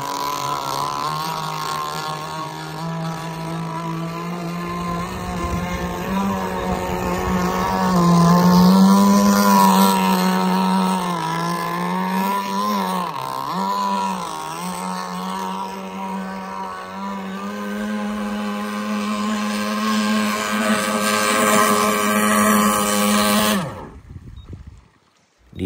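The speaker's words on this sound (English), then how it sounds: "It's a heavy boat." A heavy TSAR 58 model boat's engine runs on the water with a steady, buzzing drone. The pitch wavers and dips a few times, then the engine cuts out abruptly near the end.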